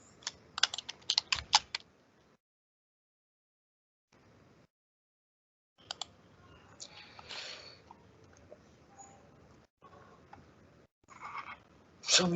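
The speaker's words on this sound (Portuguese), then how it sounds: "eu estou digitando conversão" Fingers type on a computer keyboard in quick clattering bursts of keystrokes, broken by silent pauses, close and fairly quiet.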